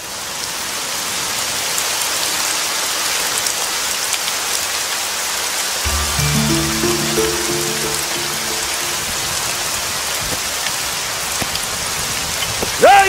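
Steady rain patters on a surface throughout, with a low rumbling hum joining midway and a faint clack at the very end.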